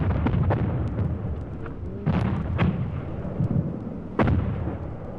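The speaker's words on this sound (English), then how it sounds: "the numbing terror of a mortar attack at night" Mortar rounds exploding at night during the Vietnam War, with several sharp blasts at irregular intervals over a steady low rumble of distant fire, the loudest burst landing near the end.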